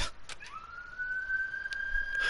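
A wailing siren sound effect in a video game rises and holds a high tone, heard alone at moderate volume.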